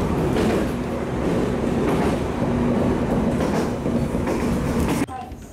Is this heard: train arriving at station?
yes